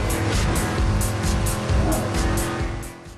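Racing cars in the PS2 game Midnight Club 3: Dub Edition, a loud sustained engine roar with squealing tires and a regular series of sharp high swishes of cars passing close by.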